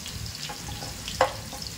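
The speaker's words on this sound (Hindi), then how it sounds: "प्याज को अच्छा गोल्डन होने देना है आपको, अच्छा गोल्डन ब्राउन करेंगे।" Onions fry steadily in a pan with a constant close sizzle, a light stir and one brief scrape partway through, no voices.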